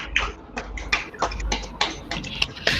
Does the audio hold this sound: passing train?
no